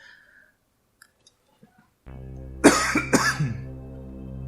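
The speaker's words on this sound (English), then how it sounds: "I'm ready to kick this cough." A man coughs twice, close and loud, over a steady low electronic hum, after a few faint clicks in near silence.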